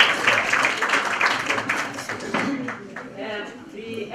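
Audience applause fills a symposium hall on human settlements, a steady broadband wash of many hands clapping that fades as a voice begins speaking near the end.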